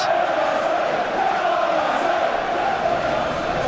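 A packed stadium crowd in an Arsenal versus Manchester United Premier League football video game roars as a constant dense murmur, loud and unbroken, with faint chant-like swells.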